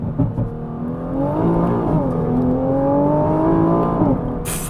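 A Nissan GT-R T-Spec engine revs up hard under acceleration, a loud, close, rising growl that holds and climbs steadily before easing off at the end, with no talking.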